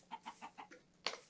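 Minecraft chickens cluck in a quick run of five short calls, followed by one sharper, louder squawk, fairly close with no talking.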